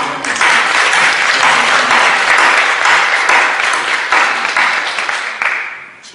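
A church congregation bursts into dense, loud applause that holds steady for several seconds, then tapers off at the end.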